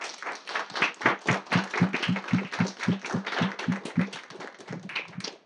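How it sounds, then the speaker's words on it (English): A forum audience claps for its panelists in a mid-sized room, with fairly distinct, rhythmic claps from a modest number of people, close and lively, continuing steadily for several seconds. "I want to have you all join me in a big round of applause for our panelists."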